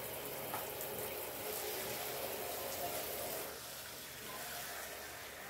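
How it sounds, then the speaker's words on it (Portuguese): Water poured in during simple dinner preparation in a home kitchen, a steady soft gushing pour that continues for several seconds, faint and close with background room noise and no talking. "Botando água."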